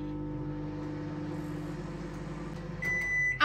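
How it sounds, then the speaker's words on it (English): A microwave oven steaming red potatoes hums with a steady low drone, then a high electronic beep sounds near the end as the cycle finishes. "And microwave's beeped."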